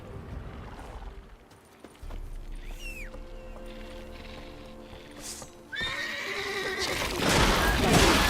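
Roach the horse in The Witcher 3 video game gives two loud whinnies, the second longer and fuller, with clip-clopping hooves and outdoor game ambience in between.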